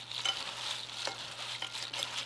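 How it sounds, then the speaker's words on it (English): Spiced Chex Mix is tossed by hand in a bowl, giving a close, continuous dry rustle and crunch of cereal pieces with soft irregular shuffles. "you're gonna give it a really good mix"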